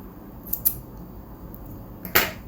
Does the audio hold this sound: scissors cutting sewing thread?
yes